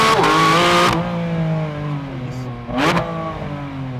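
Porsche 718 Spyder RS 2024 engine revving hard through its valved exhaust, a loud near blip that holds then drops into a settling idle, with a second short rev near the end and a brief word spoken over it.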